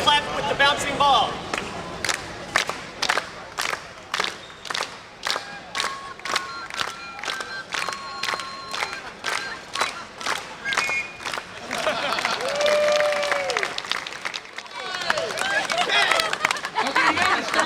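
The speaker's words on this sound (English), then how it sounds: "Everybody clap with the bouncing ball." At a 2002 juggling festival event, an audience claps in a steady, regular beat along with a bouncing ball, the sharp claps repeating about twice a second, with crowd noise and voices swelling toward the end.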